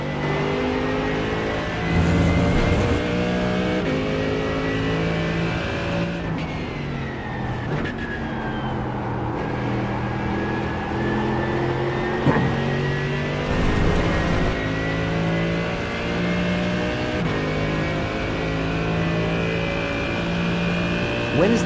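A race car in a sim racing video game runs at full throttle, the engine droning loud and steady with repeated rising and falling revs through gear changes and corners.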